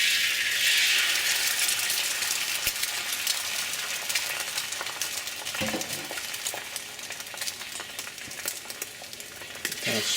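An egg sizzles loudly in a hot stir-fry pan with leftover turkey, a steady bright crackle that fades slightly over time, broken by a few scraping stirs and utensil knocks.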